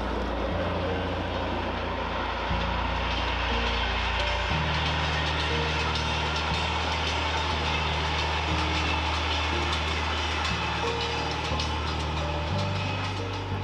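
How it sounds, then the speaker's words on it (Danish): A freight train runs on the Lollandsbanen railway in Denmark, a loud continuous diesel rumble with grinding wheels and rail noise that shifts in pitch as it passes close by, with no voices. "en tysk jernbaneklub havde arrangeret kørsel, så fotografer kan tage billeder af godstog på Lollandsbanen"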